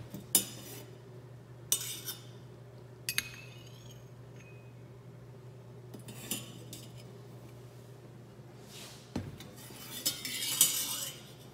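A spoon stirs and scrapes through organic tea infusion in bowls during a tea evaluation, giving sparse clinks and scrapes of utensil against porcelain with quiet gaps between, over a low steady hum.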